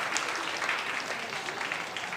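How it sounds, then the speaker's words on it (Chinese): A church congregation applauds steadily to welcome newcomers during a Sunday service, a dense even patter of many hands clapping throughout. "我们拍手来欢迎"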